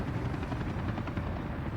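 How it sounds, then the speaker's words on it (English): Helicopters in the Soviet-era city-building game Workers and Resources: Soviet Republic produce a steady, dense rotor drone with a fast chopping pulse, loud and continuous with no talk. "that's going to return the helicopters to the skies"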